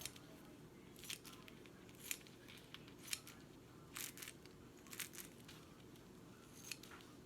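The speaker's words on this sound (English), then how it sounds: "I'm going to cut it with a scissor because I want both ends of these to be opened" Scissors snip through a paper Halloween goodie bag, with about eight short, crisp cuts spaced roughly a second apart over a faint steady background hum.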